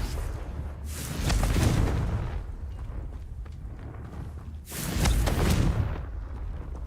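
Confringo spell explosions in Hogwarts Legacy, two loud booming blasts a few seconds apart, each with a rumbling roar that fades into a lingering low background.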